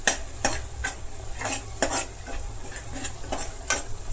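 Masala being sautéed in a pan for chole, stirred with a utensil: steady sizzling frying under rhythmic scraping strokes about twice a second, close and clear, with no talk.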